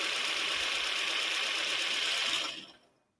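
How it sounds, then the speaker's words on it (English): A car engine cranks and runs with a steady, loud, whirring mechanical drone that holds for about two seconds and then quickly fades away, with no voices. "Oh, a car engine starting."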